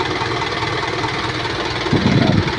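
An Isuzu NMR130 truck's diesel engine idles with a steady low rumble and knocking chug, a brief heavier surge near the end.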